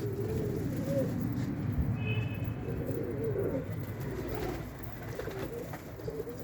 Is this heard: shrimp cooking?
no